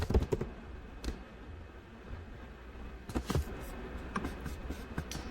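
Keystrokes on a computer keyboard as a PowerShell command is typed, a few quick taps at the start, a lone tap near one second, then a short burst of typing later, close and fairly quiet over a steady room hum.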